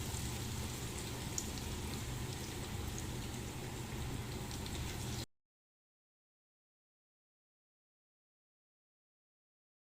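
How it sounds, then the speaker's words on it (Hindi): Brinjal slices frying in hot oil in a pan beside a roti cooking, giving a steady, dense sizzle and crackle that runs evenly for about five seconds, then cuts to silence. "ये बैंगन फ्राई हो रहे हैं साथ साथ"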